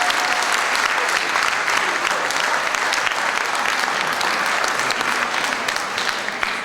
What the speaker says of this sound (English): those brothers and sisters deserve a round of applause right now, so go ahead and give it up for them.